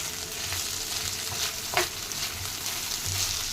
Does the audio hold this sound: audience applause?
no